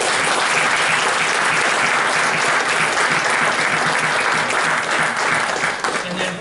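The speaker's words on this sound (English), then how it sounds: "give a big round of applause to your coaches who gave so much of their time" Players and audience at a school board meeting giving a big round of applause for the coaches, steady, dense clapping filling the room throughout, easing slightly at the end.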